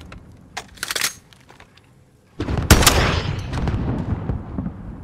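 Gunshots in a shooter game: a couple of sharp shots early, then a loud blast followed by a dense rolling burst of fire, fairly close and unaccompanied by talk.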